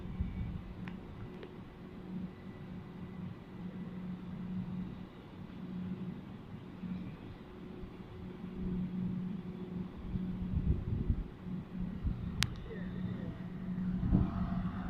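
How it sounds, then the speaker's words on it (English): A train pulls away from a platform at East Croydon on the Brighton Main Line, bound for Ore, its low steady motor hum and rumble building gradually under faint station ambience. "this train is ready to depart to Ore"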